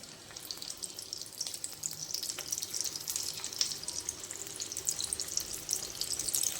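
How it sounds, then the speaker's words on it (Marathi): Twisted samosa pastries deep-fry in hot oil, a steady close bubbling sizzle with fine crackling that continues evenly throughout, with no talk. "तर आता आपण एक एक करून त्यात तळून घेऊया."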